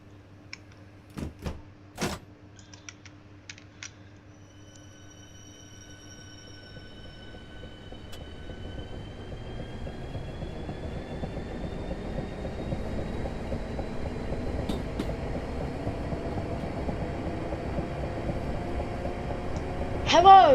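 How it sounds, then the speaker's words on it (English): A Southeastern train on the Victoria to Orpington line departs a station, with door clunks first and then a rising motor whine and wheel rumble building steadily as it gathers speed. "This train is ready to depart"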